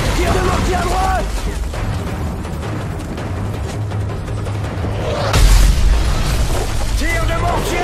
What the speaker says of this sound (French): Tire de mortier à droite !